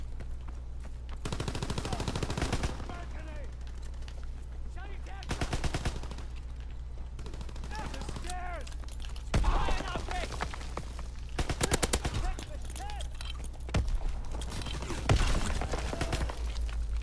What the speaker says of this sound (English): this guy's a customized grease gun